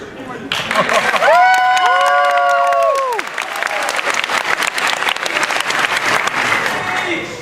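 Applause from a convention panel audience, a loud sustained wash of clapping with cheering voices, while strong tonal sweeps from a voice performer ring out over it early on.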